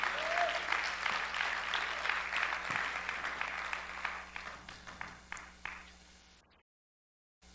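A church congregation claps for the worship team of singers and musicians, a dense wash of hand claps that slowly thins and fades before cutting off into silence.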